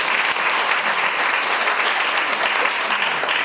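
A comedy show audience at a French stand-up set claps loudly and steadily, a thick wall of applause filling the room.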